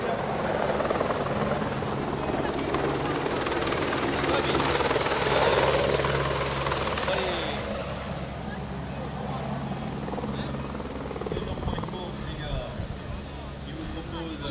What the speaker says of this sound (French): On va aller faire un tour en hélico pour montrer le parcours avec Paul Simon depuis l'hélico.